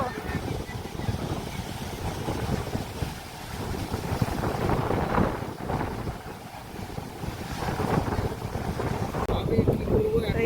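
Trawler boat engines drone steadily on the sea near Digha under strong wind buffeting and surging sea noise, with muffled voices in the background.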